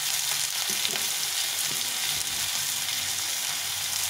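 Spices such as cumin and chili powder with salt and turmeric sizzle and fry steadily in oil while being stirred for spiced masoor dal, a continuous close hiss with faint scraping and no talking.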